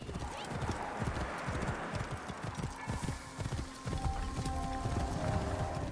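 Donkey hooves clip-clopping in Assassin's Creed Origins, a close, steady patter of hoofbeats with game ambience and a brief animal call.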